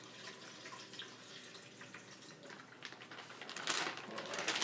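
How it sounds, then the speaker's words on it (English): Water poured by hand onto Wabi-Kusa moss-ball plants indoors, a soft, close trickle and splash that builds louder toward the end, with no talking. "I'm actually going to add some of this water in here so the plants stay"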